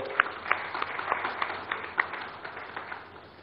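An audience at an awards ceremony in Odisha applauds with scattered, moderately loud clapping that rises briefly then tapers off, heard alone without talk.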